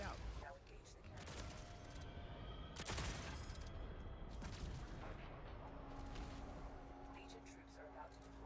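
A cannon fires in a video game battle with Legion troops, heavy booming blasts over constant roaring battle noise, one sharp loud blast standing out midway, with people talking throughout.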